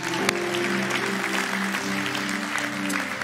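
A church congregation claps in a steady round of applause for a man during a Wednesday night service, with faint organ or keyboard tones sustained underneath and no one speaking over it.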